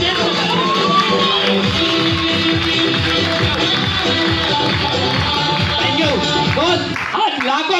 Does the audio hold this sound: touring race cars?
no